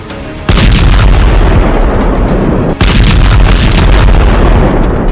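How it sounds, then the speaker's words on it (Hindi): A loud explosion lands as a sudden heavy blast, followed by a second one about two seconds later. Each hits with a dense, roaring rumble that stays loud and sustained between and after the booms. "एक जोरदार धमाका हुआ"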